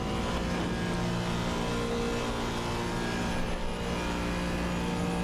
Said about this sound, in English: the 5-cylinder sounds super good, especially if you get, you know, a better exhaust